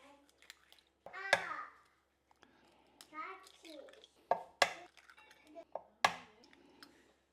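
Several eggs are cracked for scrambled eggs: sharp, close taps and cracks arrive in separate bursts, about four distinct knocks with quieter clicks and shell handling between them, and no talking.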